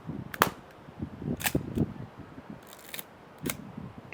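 A 35mm film camera loaded with Lomochrome Color 92 400-speed film, clicked and wound: several crisp, close mechanical snaps spaced about a second apart, with quieter ratcheting and handling noise between them and no talking.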